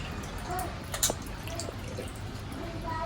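Small fish being washed by hand in water give soft splashes, drips and squishy handling sounds close by, with faint, low-level talk in the background.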